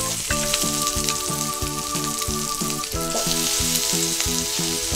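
A tofu hamburger patty sizzles in a frying pan after being flipped, a loud, close, steady crackle over a regular rhythmic hum, with no voices.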